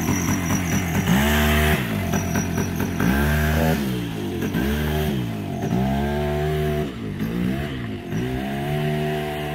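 A Polaris Sportsman 90 youth ATV engine revs up and down repeatedly in rising and falling surges, close and loud throughout with no talk.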